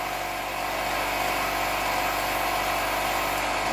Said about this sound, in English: Let me put a quick heat set on this while the air compressor blows